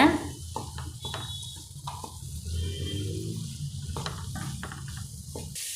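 Soft sizzling of radish sautéing with salt in a pan, a spoon scraping and stirring in short strokes, close by and fairly quiet.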